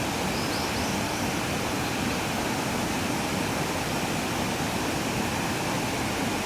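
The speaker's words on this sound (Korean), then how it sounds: "물소리 좋죠" A mountain stream rushes steadily through a shaded valley near Seongbulam in Yangsan, producing a dense, continuous broadband wash of flowing water that stays even and close throughout.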